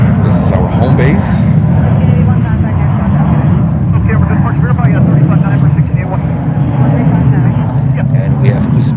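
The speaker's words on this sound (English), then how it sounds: "And we have Uzbekistan, 787-8 Dreamliner." A Uzbekistan Airways Boeing 787-8 Dreamliner at JFK Airport in New York makes a loud, continuous jet roar that stays steady throughout, with a faint tonal whine above it and some background voices.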